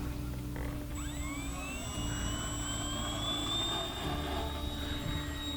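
An RC Hawker Hurricane model fighter plane takes off from grass, its motor whine sweeping upward in pitch and then holding steady, fairly faint against a constant outdoor background.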